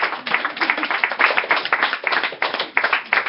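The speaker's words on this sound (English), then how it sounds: "Slow clap." Audience clapping at a comedy open mic after a joke, with dense, steady hand claps running throughout at close range and fairly loud, rather than a sparse slow clap.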